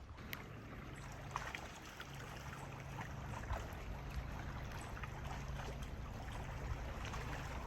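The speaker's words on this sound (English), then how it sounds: "enjoy the sound of the water lapping against the shore" Steady, gentle water sloshing and lapping continuously at a lake shoreline in Grand Teton, with a low wind-like rumble beneath and no voices.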